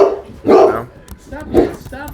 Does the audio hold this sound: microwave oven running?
no